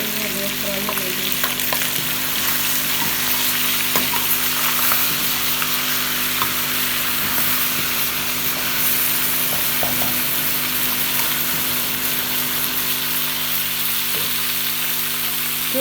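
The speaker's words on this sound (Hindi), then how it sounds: "गोश्त फ्राई हो रहा है, आप देख रहे हैं, आवाज़ें आ रही हैं गोश्त फ्राई होने की।" Mutton frying in a pan for mutton curry, a loud, steady close sizzle with frequent crackles and pops and occasional stirring scrapes lasting throughout, with no voice over it.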